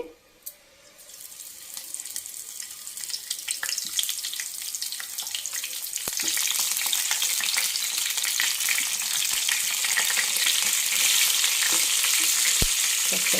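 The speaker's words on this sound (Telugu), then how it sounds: "ఆయిల్ వేసిన తర్వాత వంకాయలు వేసుకుందామండి." Brinjals fry in oil in a pan on a low flame, giving a continuous bright sizzle that builds after a couple of seconds and grows denser and louder halfway through, with occasional stirring clicks.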